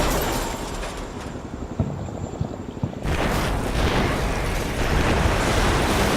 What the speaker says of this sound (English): there you can see my howitzers bombarding the town